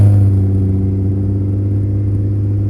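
A Honda J35 V6 swapped into an Acura CL9 idles and revs with a steady, loud, deep engine rumble, close by and continuous for a few seconds with no talk.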